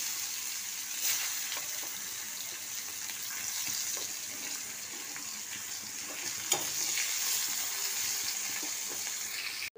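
Large onion added to hot oil with cinnamon, cloves, green cardamom, torn bay leaf and green chilli, giving a steady soft frying hiss with a few faint clinks, no voices.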